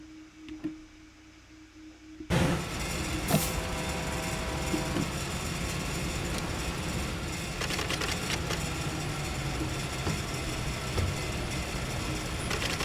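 A steady mechanical grinding and clattering drone from a Caltrain MP15DC locomotive in a train-driving video game kicks in abruptly after a quiet stretch and runs continuously, loud and rough with occasional sharper rattles.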